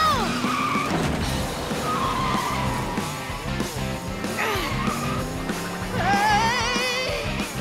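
Cartoon toy trucks racing, with skidding tires screeching in rising and falling squeals over engine revs and a busy music-like bed, loud and continuous throughout.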